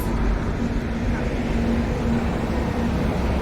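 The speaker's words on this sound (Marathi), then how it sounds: "हायवेला गाड्यांचा भरभर भरभर भरभर आवाज" Highway traffic, a dense, continuous rumble and whoosh of passing vehicles with a steady low drone, loud and close throughout without clear breaks.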